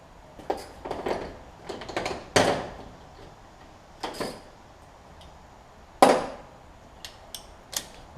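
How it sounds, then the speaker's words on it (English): A 3/8-inch torque wrench tightening spark plugs to 13 foot-pounds on a 2003-11 Honda Element, heard as scattered close metallic clicks, ratchet rasps and knocks with quiet gaps between them. "Using the 3/8 smaller torque wrench that I've got, torque to, I don't know if y'all can see, 13 foot-pounds."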